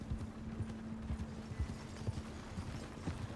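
Horse hooves clip-clop in a steady, brisk rhythm in the video game Pathfinder: Wrath of the Righteous, fairly close and moderately loud, with a faint mechanical hum underneath.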